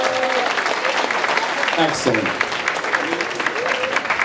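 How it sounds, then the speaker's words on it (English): Audience applause at a high school Christmas improv night, a steady patter of clapping with a voice calling out briefly over it. "Give yourselves a round of applause"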